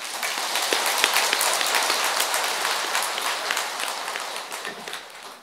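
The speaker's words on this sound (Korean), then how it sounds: "그 말 했다고 박수 치시는 거예요?" Lecture-hall audience at a Buddhist dharma talk clapping together, a dense, even patter of many hands that tapers off toward the end.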